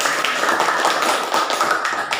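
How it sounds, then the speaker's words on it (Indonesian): Classroom audience applause after a student group presentation, a dense, steady burst of many hands clapping close by, with no talking over it. "Kasih aplaus."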